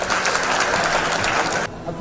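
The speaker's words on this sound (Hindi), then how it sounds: "ताली बजाओ ताली बजाओ" An audience at a science centre event breaks into a loud burst of dense clapping, cut off abruptly just before the end.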